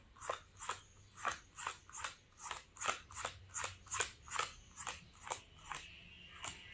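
Playing cards peeled off a deck one at a time during a card trick, making a steady series of about twenty soft, crisp snaps with even spacing, close and fairly quiet, with no talking.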